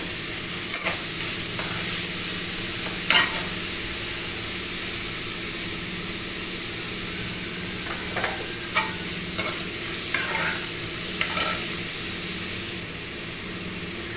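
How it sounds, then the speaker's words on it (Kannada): Sliced onions frying in a pan with salt, stirred steadily, giving a continuous close sizzle with scraping and clinking spatula strokes every few seconds, no voices. "ಗೋಲ್ಡನ್ ಬ್ರೌನ್ ಕಲರ್ ಬರೋ ಅಷ್ಟೊತ್ತಿಗೂ ಫ್ರೈ ಮಾಡಬೇಕಾಗತ್ತೆ."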